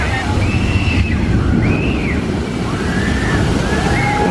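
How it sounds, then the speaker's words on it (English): Water ride splash at Universal Orlando's Islands of Adventure theme park: a steady, loud rush of churning water with faint, distant high-pitched screams rising above it. "There was a scream, there was a splash, and a bunch of laughs."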